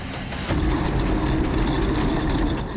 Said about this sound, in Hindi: इन तस्वीरों को देखिए, यह रूस का नया ड्रोन प्रूफ टैंक है।